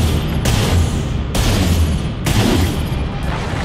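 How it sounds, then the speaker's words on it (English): Loud, close booms from explosions in a video game come in a rapid series of three or four heavy blasts, each with a rumbling tail, and no voices over them. "we're gonna give you a fucking explosion"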